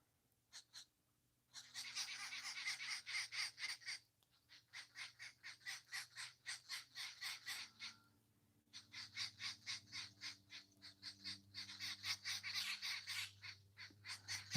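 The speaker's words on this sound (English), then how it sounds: "Those birds are called katlachters" Katlachter birds call outdoors in long runs of rapid, rhythmic cackling bursts, moderately near, with short pauses between runs over a faint low hum.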